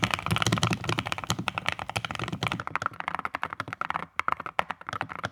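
Rapid, close typing on a keyboard fitted with AweKeys Air low-profile metal keycaps, a dense stream of crisp clacks with occasional brief pauses, heard alone without talk.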